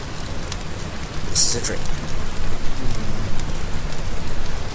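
Constant rainfall patters in the game Umbrellas Wanted, a steady dense hiss that grows louder after the first second, with a brief chime and a voice speaking over the rain.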